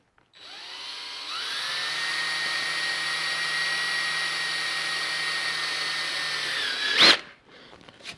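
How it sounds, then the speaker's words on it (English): A power drill whines steadily for several seconds, pitch rising as it spins up, then a brief harsh burst as it breaks through a plastic panel on a Honda Gold Wing motorcycle and stops. "we're going to drill this hole right here"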